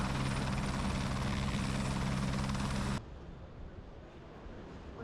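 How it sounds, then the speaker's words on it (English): A helicopter's loud, steady rotor drone and whine dominates for about three seconds, then cuts to a much quieter muffled rumble. The setting is a trip on the road to the Himalayas from Kathmandu toward Tibet. "Don't know if you can hear me over the noise of this helicopter"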